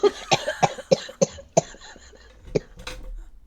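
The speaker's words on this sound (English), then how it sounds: "I've still got a cough" A fit of sharp coughs, about half a dozen in quick succession, then a couple more after a short pause, loud and close.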